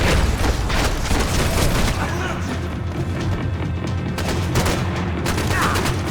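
Gunfire fills the scene in Max Payne 3, a dense, loud run of shots and booms with no break.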